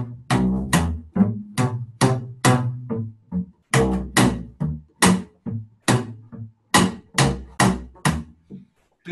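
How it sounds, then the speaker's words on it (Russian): Double bass played with slap pizzicato on a tango piece, heard as a steady run of sharp, percussive plucked notes in rhythmic groups, close and loud with no talking. "который, ну, на английском языке называется slap, то есть шлепок"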